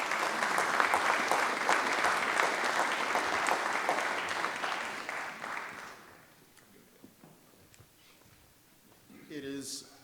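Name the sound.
memorial service audience applause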